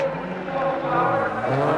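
Rally car at the 1990 Race of Champions coming back onto tarmac in second gear, a close engine roar with rising revs and a brief tyre scrub, loud and steady.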